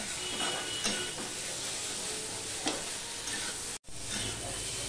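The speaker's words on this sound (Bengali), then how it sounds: "মিশিয়ে নিয়ে লো ফ্লেমে আমি 2 মিনিট কষিয়ে নেব" Soybean chunks tossed with masala sauté over a low flame in a pan, a steady close sizzle with soft stirring scrapes and a brief dropout near the end.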